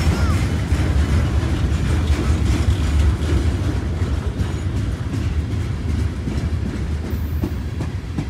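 A slow-moving CSX freight train rumbles past close by, its heavy steady low roar of wheels and cars carrying on without a break, with faint wheel clatter and no talking.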